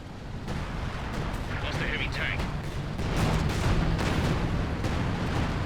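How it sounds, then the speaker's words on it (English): A zeroing artillery barrage in Company of Heroes 2 pounds away in a World War II tank battle, with repeated booming shell impacts and crackling blasts, denser and louder toward the end, mixed with other battle noise. "Zeroing artillery going to take down this Churchill."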